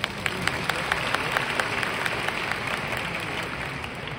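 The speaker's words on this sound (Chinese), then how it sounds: "来掌声一下。" An audience at a leadership training event in a Malaysian convention hall applauds steadily, many hands clapping together in a continuous, even roar that holds at the same level throughout.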